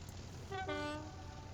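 A train in the Transport Fever video game sounds its horn in one sustained, tonal blast lasting about half a second, over a steady low rumble of game ambience.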